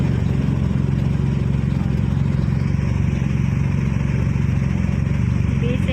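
Busy late-afternoon road traffic with many motorcycles and cars at rush hour: a constant, loud rumble of mid-pitched engines passing close by, with a voice speaking over it.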